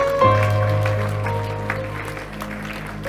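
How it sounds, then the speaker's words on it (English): A church congregation claps hands in praise, a steady wash of applause running under loud sustained music that gradually fades. "Just give him some praise. Clap your hands."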